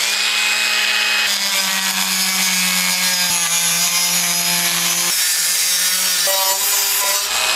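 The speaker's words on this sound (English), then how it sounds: "I'll have to trim it off right there." An aluminum lure part being trimmed off with a cutting tool, making a loud continuous whining, grinding buzz whose pitch shifts slightly as the cut goes on, close and alone without speech.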